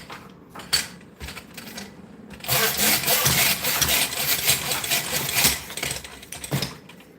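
A miter saw cuts the edge of a wooden picture frame, a loud close burst of blade noise lasting about four seconds, framed by a few clicks and knocks before and after.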